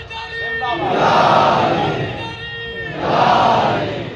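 A large crowd at a Shia majlis gathering chants religious slogans such as "Labbaik ya Hussain" in unison, two loud surging waves of massed voices with a brief dip between them.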